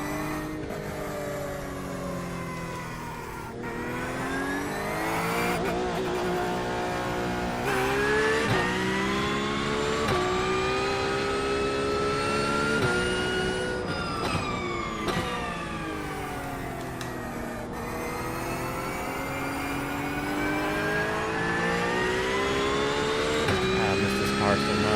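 A race car laps Daytona during 24 Hours testing, its engine droning loudly and without a break, the pitch climbing and dropping with each gear change and corner.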